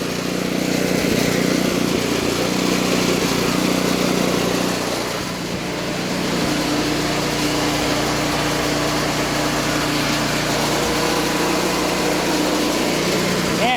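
A 1971 Toro 7/26 snowblower engine runs steadily in neutral at a constant high-pitched drone, loud and unbroken, with brief faint talk.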